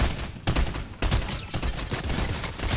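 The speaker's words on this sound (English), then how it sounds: "Is that shooting?" Rapid bursts of gunfire from a Fortnite match, repeated volleys crackling steadily with sharp onsets around the half-second and one-second marks, loud and continuous throughout with no talking.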